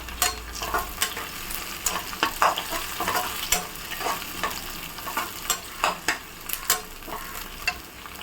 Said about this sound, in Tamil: வெங்காயம் பாதி வதங்கிருச்சு இப்போ வந்து நம்ம கருவேப்பில போட்டுக்கலாம்